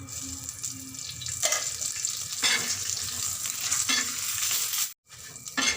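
Garlic and cumin frying in a little oil in a pan over low heat for a green chili thecha, a steady close sizzle broken by a few scraping stirs and one brief silent gap.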